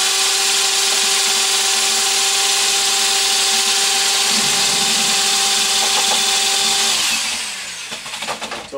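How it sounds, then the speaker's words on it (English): A high-speed electric drill mixing red pottery glaze whines steadily and loudly with a constant pitch, then winds down near the end into rougher, uneven churning. "I use a high-speed electric drill motor"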